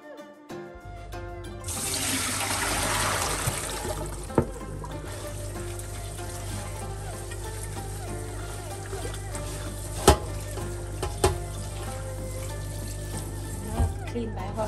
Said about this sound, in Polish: Następnie zalewamy soję wodą i odstawiamy na całą noc.